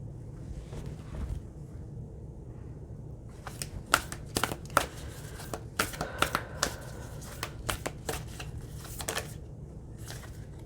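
Tarot cards shuffled by hand, a quiet start followed by bursts of crisp riffling and slapping card sounds in irregular clusters, close to the microphone with light background rumble and no voices.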